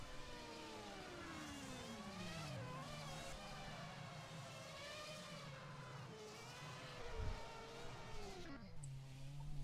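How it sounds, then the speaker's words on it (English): A race car engine in a sim racing championship round in Brazil, revving and wailing with rising and falling pitch as the car spins through donuts, loud and continuous with no talk. "Mark Hutchinson killing his engine with his donuts"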